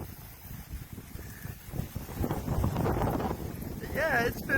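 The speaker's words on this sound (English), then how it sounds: "But yeah, it's been windy all morning so far." Wind gusts across an open state fishing lake in Kansas, a steady broadband rush that swells louder toward the end and buffets the microphone, with a faint high bird-like chirp near the close.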